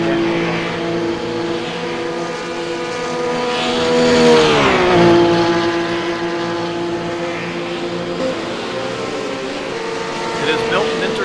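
Porsche RUF GT3 race car at Bathurst in iRacing, its engine droning loudly and rising in pitch to a peak midway before easing off, under commentary.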